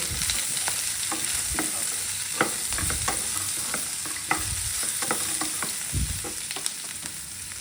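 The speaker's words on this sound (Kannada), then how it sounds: "ಈಗ ಸ್ವಲ್ಪ ಅರಿಶಿನ ಪುಡಿ ಹಾಕ್ಕೊಂಡಿದ್ದೀನಿ. ಫ್ರೈ ಮಾಡ್ಕೊಂಬಿಡೋಣ." Turmeric powder frying in a pan for capsicum curry, a steady close sizzle with scattered scraping clicks of a spoon stirring through it, no voices.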